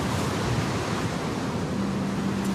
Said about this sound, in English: We've got a very strong gust here, guys.